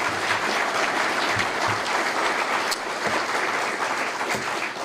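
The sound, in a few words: audience applause for award recipients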